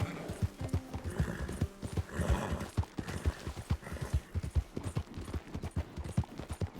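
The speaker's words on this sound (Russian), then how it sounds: "Да, лошадка отлично плавает." Hooves clop in a quick, steady rhythm with a horse's whinny partway through, fairly close and clear, in the video game Red Dead Redemption 2.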